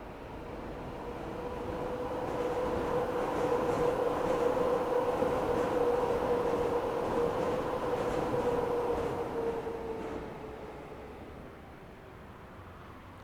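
A Greater Anglia train in the Train Sim World 5 game pulls away, a steady rumbling hum with a sustained tonal whine that swells, holds for several seconds, then fades as it recedes.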